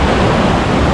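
Steady wash of waves on a riverside beach at Aplaya in Digos City, a continuous close surf rush with a wind-like hiss and no voices.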